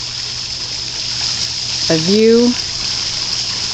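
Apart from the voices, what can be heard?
water flowing into garden catch basin pond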